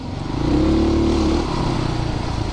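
A Christini all-wheel-drive 250cc big-wheel motorcycle is ridden fast off-road, its engine droning loud and close with a rising whine that levels off into a steady buzz.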